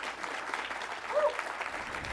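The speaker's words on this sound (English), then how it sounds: "another round of applause for the foundation." Audience applause at the 2023 Dr. John W. Rice awards ceremony, a steady, dense patter of many hands clapping throughout, moderately loud and continuous with no speech over it.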